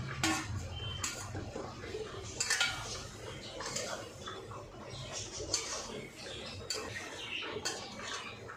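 Potatoes and pointed gourd tossed into a spice paste in a pan and stirred, giving repeated scraping and clinking of a utensil against metal, moderately close and continuous.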